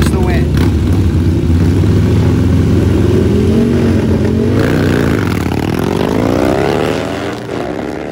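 Harley-Davidson motorcycles, including a fast Sportster, launch hard off the line at a single-elimination drag race, their engines a loud sustained roar that climbs in pitch as they accelerate away, with a crowd or announcer faintly beneath.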